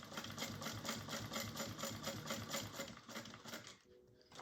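A sewing machine, partly turned by hand crank, stitches a bag with a rapid, even mechanical chatter. The sound is close but very quiet and stops near the end, with no talking.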